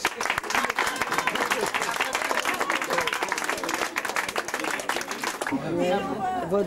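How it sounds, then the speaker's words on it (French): An audience claps for a woman arriving on stage at a cabaret-style show, dense steady applause that fades out near the end while a voice begins speaking. "On l'applaudit parce qu'elle n'a pas le courage."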